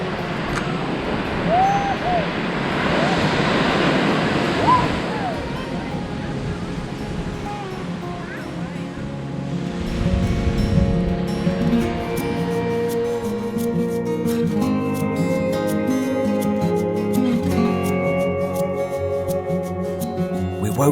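Surf washes onto a Costa Rica beach as a broad, steady roar, with wind buffeting the microphone, before fading under music in the second half.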